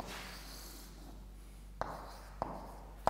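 Chalk writing on a board during a mathematics lecture: quiet scratchy strokes followed by three sharp taps, in a faint room with no talk.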